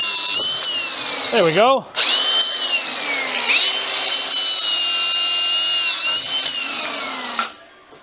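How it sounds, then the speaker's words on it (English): A grinder cuts metal on a car's rear axle, its loud, high whine dipping and recovering as the disc bites into the metal, then winding down at the end; a voice speaks briefly. "We're gonna get in there with that grinder and just do a little bit more damage."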